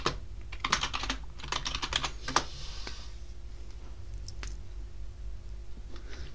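Close, quick keystrokes patter across a computer keyboard as commands are typed in a Debian terminal: a dense run of clicks at first, then sparser taps over a faint steady hum, with no talking.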